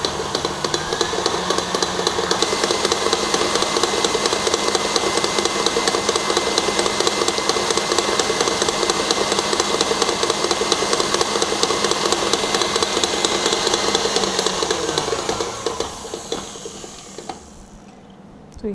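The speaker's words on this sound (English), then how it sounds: "I'm going to beat the both together for about 3 minutes on medium-high speed." An electric mixer beats butter and condensed milk at medium-high speed for a chocolate cake batter, giving a loud, steady motor whir with a fine rattle that runs unbroken before slowing and stopping near the end.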